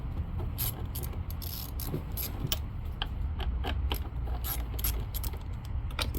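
A ratchet with a 10 mm socket works loose the throttle body bolts on a Chevrolet Equinox, giving steady mechanical clicking and grinding at close range with no talking.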